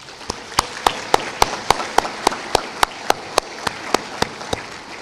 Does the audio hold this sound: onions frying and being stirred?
no